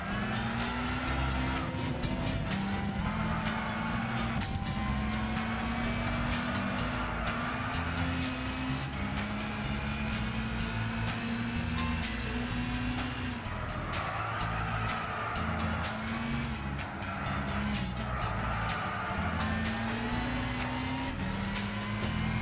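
A race car driven hard in Gran Turismo 6, a continuous engine drone with rising and falling pitch as it accelerates and lifts, plus faint tyre scrub, steady and moderately loud throughout.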